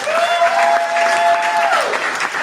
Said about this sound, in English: So another round of applause for Mr. Conley for it.